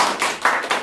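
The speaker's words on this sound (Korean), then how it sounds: "이때는 박수를 쳐줍니다." A few sharp hand claps of encouragement in a church teaching setting, three or four distinct claps in a quick uneven rhythm, close and alone.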